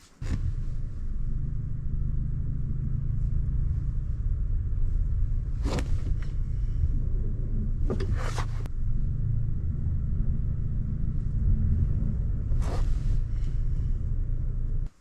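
Manual car idling while the clutch is lifted to the bite point, a steady low engine rumble close by with a few brief clicks and knocks, and no talk.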